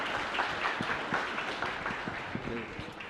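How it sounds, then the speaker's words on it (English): A crowd at a U.S.–Ghana business forum keynote applauds steadily as someone climbs onto the stage, the clapping moderately distant and continuous with a faint murmur of voices beneath. "Oh, clap for her."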